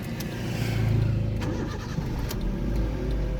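A 2010 Honda City engine turns over and catches, then settles into a low, steady idle rumble close by.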